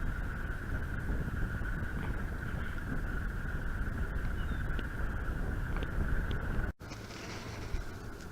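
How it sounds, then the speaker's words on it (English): Strong wind buffeting a microphone on a hilltop trail, a loud, continuous low rumble with gusty roar that cuts off abruptly near the end, leaving quieter wind afterward. "there's a lot of wind up here"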